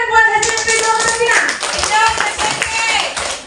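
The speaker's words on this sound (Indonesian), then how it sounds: "Tepuk tangan buat SMP 2 Kota Pinang." An audience claps for SMP Negeri 2 Kota Pinang at a school teachers' learning-community session, a quick burst of handclaps that spreads and thins out, mixed with voices.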